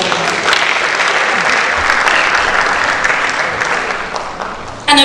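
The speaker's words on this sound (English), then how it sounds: "A round of applause" Warm applause from the audience at a malaria health colloquium welcoming a panelist, a professor, steady and dense across the hall for about five seconds.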